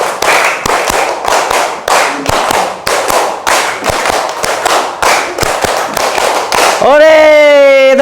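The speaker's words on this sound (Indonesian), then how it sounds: "tepuk tangan untuk semuanya" A group claps hands in sharp, evenly spaced unison claps, a long run of loud individual beats, ending with a sung or spoken voice rising over the final moments.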